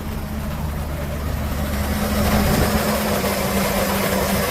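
A 2007 Chevrolet K3500 cab-chassis flatbed truck with a 6.0 gas V8 and just under 128,000 miles idles nearby, a steady, even low rumble with a smooth hum and no knocking, swelling slightly midway.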